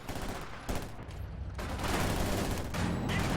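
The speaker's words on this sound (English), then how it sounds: "Enemy fire." Sustained gunfire from a Company of Heroes 2 battle, with PPSh submachine guns and an MG42 in the fight, rattling in continuous bursts with occasional heavier thumps, loud and dense with no pause.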